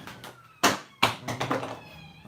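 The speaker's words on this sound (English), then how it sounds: "Knocking stuff on the floor." A cat knocks things onto the floor in a room. Two sharp taps or clatters land close by, followed by a few softer knocks, and a meow mixes in among the impacts.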